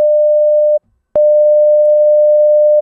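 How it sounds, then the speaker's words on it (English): A steady 600 Hz sine test tone, loud and pure, plays alone, cuts out briefly with a click, then resumes unbroken for nearly two seconds. "Now if I play the 600 hertz, in order to do that, I got to turn it on."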